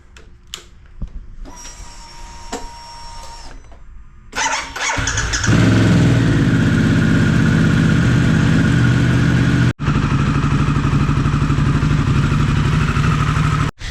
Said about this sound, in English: I'm going to start the bike up and just give it a bit of a warm up.